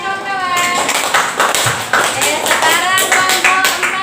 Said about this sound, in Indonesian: Mana tepuk tangannya kawan-kawan?